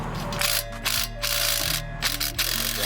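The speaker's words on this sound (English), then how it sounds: "14 mil bolt to get the sway bar end link off" A ratchet wrench loosening a 14 mm sway bar end link bolt on a 2019 Honda Civic Si, loud close clicking pawl bursts in short repeated strokes.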